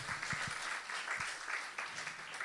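Faint applause from an audience at a church gathering, a soft wash of many hands clapping steadily with a few low thumps, heard briefly from some distance.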